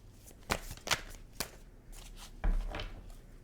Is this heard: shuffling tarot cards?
yes